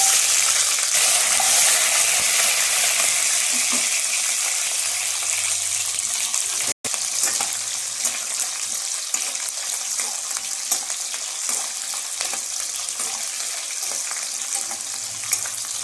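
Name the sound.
onions frying after mustard seeds popped, vegetable curry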